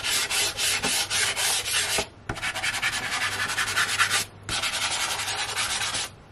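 Pastel rubbed on paper to block in dark tree trunks and foliage makes rapid, dry scratchy strokes in three close sustained bursts, separated by brief pauses.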